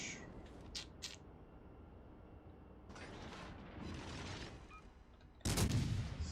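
Naval guns fire in World of Warships Legends: a few muffled booms come early, then a longer rumbling stretch follows, and a loud, sharp blast lands near the end. The mix is fairly quiet, and no one speaks.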